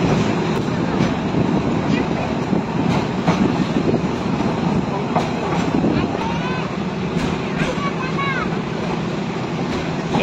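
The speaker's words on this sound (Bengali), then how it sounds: "কক্সবাজার স্টেশনে ঢুকতেছি" A passenger train rolls into Cox's Bazar station, heard from on board as a loud continuous rumble with rattling wagons and irregular clacks from the wheels, plus a few brief squeals near the end.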